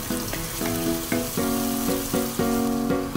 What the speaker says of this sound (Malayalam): ഇനി ഇവിടെ ചൂടായ എണ്ണയിലേക്ക് 2 സവാള മതി. ഇത് സ്ലൈസ് ചെയ്തത്.